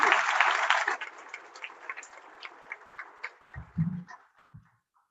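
Applause for young performers at a school session, a short burst of clapping that quickly thins out into scattered claps and fades to quiet.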